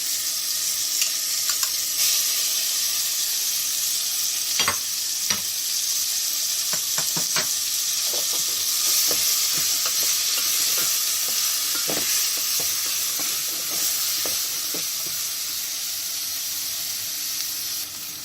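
Onions frying in a pan for an Algerian mtewem tagine with almonds, a steady close sizzle and hiss with scattered sharp crackles and spits, plus occasional clicks of stirring, with no talking.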